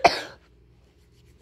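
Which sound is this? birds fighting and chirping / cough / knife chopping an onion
cough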